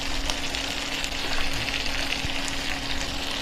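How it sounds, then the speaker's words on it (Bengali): Beef chaap pieces frying in an open pan, a steady dense sizzle filling the clip with a brief soft knock as pieces are flipped, close and alone without talk. "এখন আমি চাপ ভাজাগুলোকে উল্টে দিচ্ছি"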